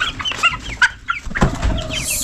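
Chickens and chicks clucking and peeping at an off-grid home in Kenya, several close, chattering calls with short gaps between them and a soft rustle partway through.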